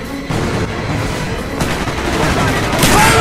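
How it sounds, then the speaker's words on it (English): Gunfire in the Vorkuta prison escape of the video game Call of Duty: Black Ops: a dense, loud burst of shots and booming impacts over a chaotic battle din, building toward a final louder crack. "Shoot the lock, Mason!"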